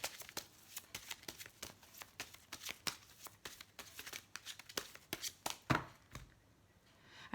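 Tarot cards are shuffled by hand in a long run of quick, crisp riffles and taps at close range, irregular in rhythm, with a faint voice now and then.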